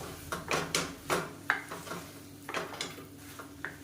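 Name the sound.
stirring soya chunks into kuruma in a pan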